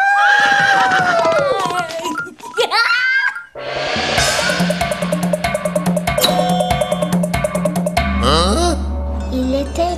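A horse whinnies loudly several times, followed by a steady clip-clop of hooves, with children's voices and laughter heard now and then.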